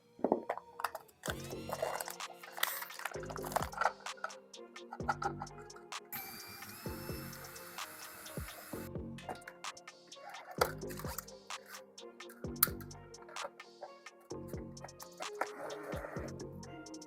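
A Creality Ender 3 V2 3D printer prints filament samples, quiet stepper motor whirring and ticking in shifting patterns, with music playing throughout.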